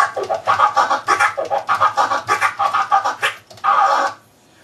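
A DJ's transform scratch on a record, cut with a swinging, uneven timing: a quick run of choppy stuttering bursts, close and loud, ending in one longer held tone.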